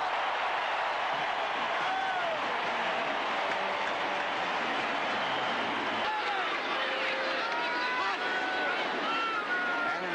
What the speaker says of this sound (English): the roar of the crowd will tell you that